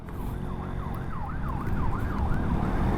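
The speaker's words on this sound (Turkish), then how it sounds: "Ambulans nereden? Ha öbür taraftan." An ambulance siren wails in rapid rising-and-falling sweeps over a low rumble of London traffic, moderately distant and steady throughout.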